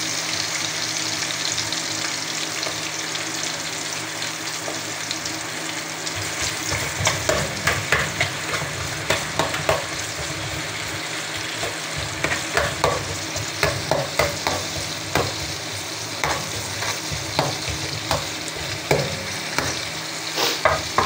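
Ginger and onion sauté in a pan for sardine tinola, a steady broadband sizzle running throughout while a utensil scrapes and stirs in frequent clicking bursts, close and fairly loud with no talking.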